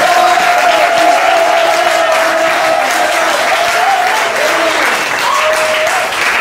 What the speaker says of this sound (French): Acclame pour Jésus maintenant.